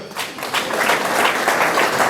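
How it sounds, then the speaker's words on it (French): A church congregation at a wedding claps together, a dense, steady burst of applause filling the room for about two seconds, with no voices over it. "Merci, merci pour vos acclamations."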